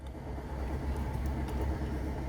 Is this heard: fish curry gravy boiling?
no